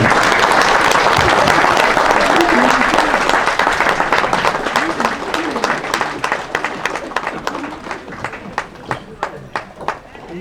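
An audience at an old west town show gives the cast of Dogwood Pass loud, dense applause that thins toward the end into scattered separate claps, with a voice talking over it.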